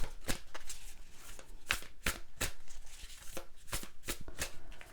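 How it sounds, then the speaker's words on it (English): A deck of tarot cards being shuffled and drawn, with a string of crisp, close riffles and snaps coming in quick irregular bursts. "All right, let's pull these cards."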